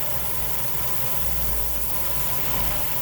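A Mazda Miata NB2 engine, running on a rusEfi ECU with VVT connected, idles steadily after a cold start, giving a constant rumble close to the microphone with no talking.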